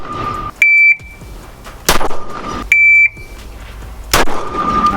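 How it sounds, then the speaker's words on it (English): A shrill electronic shot timer beep sounds twice during a tactical shooting drill, each followed moments later by a sharp, loud gunshot, with quiet pauses between. "So you hear the buzzer, present, shoot"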